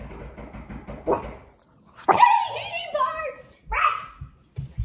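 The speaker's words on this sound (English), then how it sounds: "Connor's gonna try to make Lucy bark." A pet dog barks a few loud, close barks and yips after some soft chatter, with a person's voice and faint sounds between the barks.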